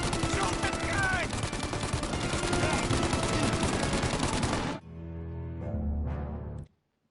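Gunfire in the Mafia Definitive Edition video game: dense, rapid bursts of shots fire continuously for several seconds, then give way to a quieter stretch with a few lower thuds before cutting off.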